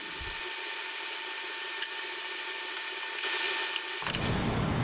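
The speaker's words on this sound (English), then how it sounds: "I'm gonna turn the furnace on before it gets much colder in here" A steady, broad mechanical roar like a furnace blower running nearby, with faint ticks and a louder low rumble kicking in near the end.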